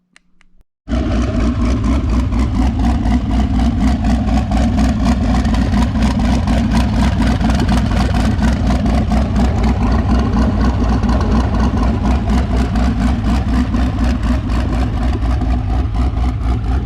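A car engine with a modified, cut downpipe exhaust starts and settles into a loud, rumbling idle with a rapid, steady throb from a deep, throaty exhaust, running continuously.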